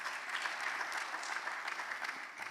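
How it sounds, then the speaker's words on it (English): Sustained applause from a conference audience for Undersecretary Moffett, a steady wash of many hands clapping at moderate distance with no talk over it, fading slightly at the end. "So a round of applause for Ms."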